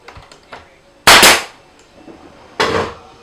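A fastener gun fires into wooden beehive boards: two loud, sharp bangs about a second and a half apart, preceded by a few faint ticks and knocks, with no talking.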